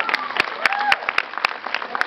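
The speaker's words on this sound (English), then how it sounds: "clap." An audience claps in scattered, uneven bursts during a 2015 BET Genius Talks panel, the claps sharp and close, with voices talking over them.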